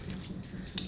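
Utensils clink and scrape in a bowl while kinilaw of yellowfin tuna with grated mango is mixed, a soft, steady stirring with one brighter clink near the end, close and fairly quiet.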